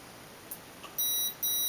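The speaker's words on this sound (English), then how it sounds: "One beep, reduced power." Two short electronic programming beeps, one after the other, come from the brushless electronic speed controller of an MJX F645 RC helicopter over a quiet background hum.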